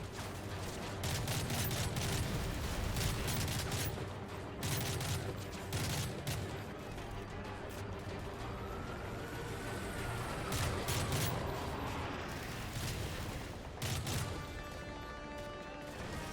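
Sustained automatic gunfire with heavy crashing impacts from a Call of Duty game, loud and dense with bursts throughout, a faint sweeping tone in the middle and a brief voice near the start.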